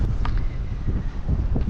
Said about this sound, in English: It's kind of windy here today